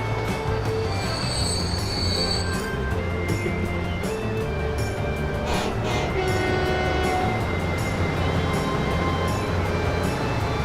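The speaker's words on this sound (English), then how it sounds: "We are much faster than the other trains on these lines." Train wheels grind and squeal on the rails in the railway video game Transport Fever, a loud, continuous metallic rumble with no talking.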